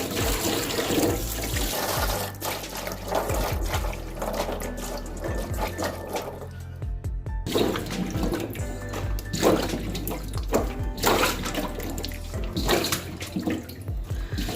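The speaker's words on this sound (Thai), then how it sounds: "เวลาล้างกระชายค่ะก็จะล้างเสร็จแล้วในหนึ่งน้ำนะคะ" Fingerroot (krachai) being washed by hand in a basin of muddy water, with continuous close sloshing, splashing and swirling and a brief lull partway through before the churning resumes.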